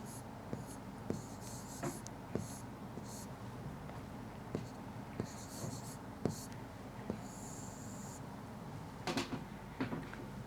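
Chalk or marker taps and scratches on a board in a classroom come in short, irregular strokes, close but faint, with quiet pauses between the marks.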